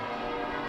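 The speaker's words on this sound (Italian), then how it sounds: "Le campane suonano a festa" Church bells peal in celebration for an episcopal ordination and installation in the diocese of Vittorio Veneto, a dense, steady wash of ringing tones with no talk.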